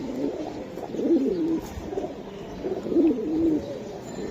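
Bagha pigeons of an old line coo in low, rolling, repeated phrases, two clear bouts close by, with no talk.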